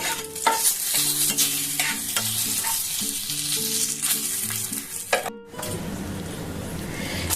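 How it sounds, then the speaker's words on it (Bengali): Whole spices (cumin, dried chili, bay leaf, cloves, cardamom, cinnamon) sizzling in hot oil after fried fish, for a Bengali katla fish and potato curry, with a loud, steady close-up crackle, a stirring scrape, and a brief pause near the end. "প্রথমে দিয়েছি একটু জিরে শুকনো লঙ্কা তেজপাতা লবঙ্গ এলাচ দারচিনি"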